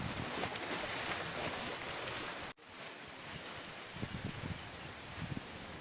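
Floodwater rushes downstream from the Srisailam dam, where hydroelectric stations release about 61,000 cusecs. The flow makes a loud, continuous roar with a brief dropout partway through, and no voices can be heard.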